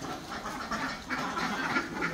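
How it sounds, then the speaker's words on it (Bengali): A crowd of ducks quacks on a small farm holding about 210 birds, a steady overlapping chorus of quacks at moderate distance, fairly soft and with no talking. "এখানে 210 পিস হাঁস আছে।"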